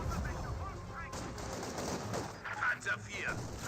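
Panzer IV tank firing a couple of volleys at conscript infantry in a Company of Heroes 2 battle, heard as sharp bursts and rumbling gunfire amid dense battle noise, with brief chatter in the mix.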